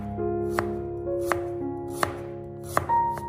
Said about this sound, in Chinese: 然后再剁成姜末